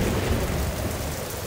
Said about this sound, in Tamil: திடீர்னு பெரிய இடி சத்தத்தோட மின்னல் அடிக்க ஆரம்பிச்சது.